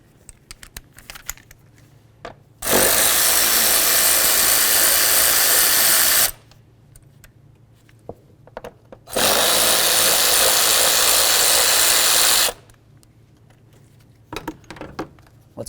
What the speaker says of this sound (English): We're going to go ahead and remove these two bolts.